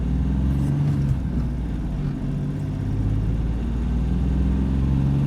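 A car with a 1.5 engine, either a Ford Fiesta or a Hyundai Getz, pulls away from a standstill, with a steady low engine drone that rises gently, heard from inside the cabin with no speech.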